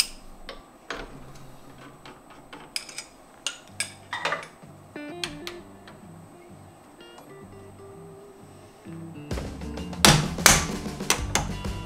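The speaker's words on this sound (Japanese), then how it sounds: "ドリルチャックは外します。" Drill chuck being removed from a CNC machine spindle, a series of faint metallic taps, clicks and knocks spread across the clip, with louder clattering toward the end.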